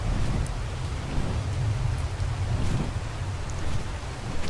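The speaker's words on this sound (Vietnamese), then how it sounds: "Thời tiết dưới mưa tối còn mưa nữa." Steady rain falls in a dark, rainy night in the video game ARK: Survival Evolved, a dense continuous patter with low rumbling undertones like distant thunder, heard alone without talk.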